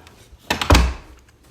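An interior door in a house bumping shut with a short, solid thunk, preceded by a light rattle of the handle, close and alone.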